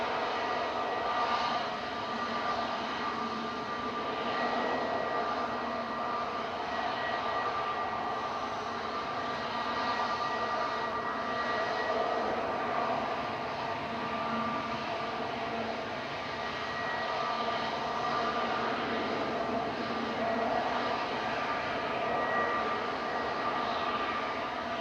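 An Airbus A320 Classic, flight 2193 to Zurich, departing Manchester Airport, its jet engines giving a steady, moderately distant roar that holds evenly throughout without any talk.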